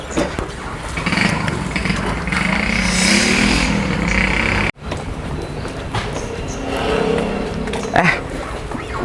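Motorcycle engine running close by before it is parked on its stand, with a voice talking over the steady rumble that cuts out midway and then resumes.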